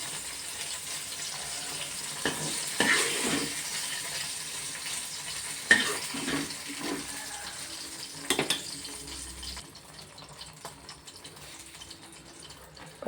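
Semiya vermicelli fries and gets stirred in a pan, a soft steady sizzle broken by scraping stirs and a few louder clinks of the utensil, close and fairly quiet throughout.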